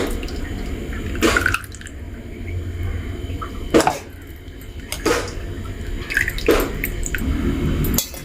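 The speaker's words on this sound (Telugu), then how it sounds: "ఈ అరిటాకు జ్యూస్ని ఫిల్టర్ అయితే చేస్తున్నాను." Banana leaf juice is filtered, with drops of liquid falling and splashing in a few distinct, spaced plinks over a soft, low background hum.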